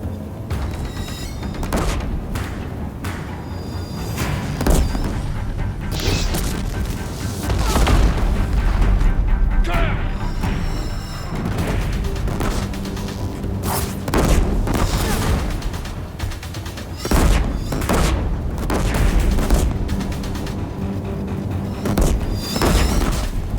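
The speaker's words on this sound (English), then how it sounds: "If the Deathbringers keep firing, this bridge will go." Deathbringer war machines firing in Horizon Zero Dawn, a sustained barrage of booming blasts and heavy gunfire with dense explosive impacts, loud and continuous throughout.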